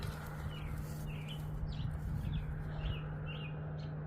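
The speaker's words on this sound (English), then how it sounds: "listening to the robins singing" Robins singing outdoors near a raspberry patch on a morning, short bright chirping phrases repeating every half second or so over a steady low hum and background noise, fairly faint and distant.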